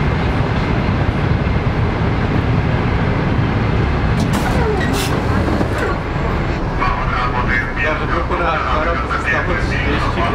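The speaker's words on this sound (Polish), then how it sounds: "tak wygląda prowadzenie tego tramwaju" Tram ride in a Ukrainian city, loud continuous rumble of the car rolling on rails with squeaks and clatter from wheels and track, voices talking faintly over the noise.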